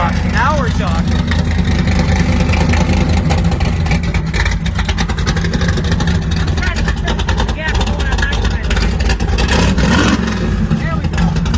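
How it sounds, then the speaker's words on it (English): A 1955 Chevy Gasser with open exhaust and a Tremec 6-speed roars loud and close, revving hard with a continuous rumbling drone and sharp throttle blips, while people talk over it. "crack open that exhaust"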